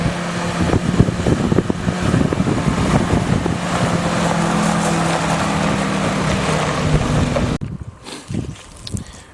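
A 1956 Willys CJ5 Jeep with a four-cylinder engine and T98 four-speed drives past outdoors on a test drive, its steady engine drone loud and close amid wind buffeting before cutting off sharply near the end.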